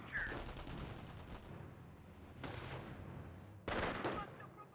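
Gunfire from a Company of Heroes 1 battle, with rifle squads trading shots around a harbor sector: dense crackling volleys in bursts, a heavy flurry at the start and another sharp salvo near the end, with a murmur of background noise between.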